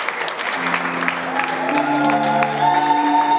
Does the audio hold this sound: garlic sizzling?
no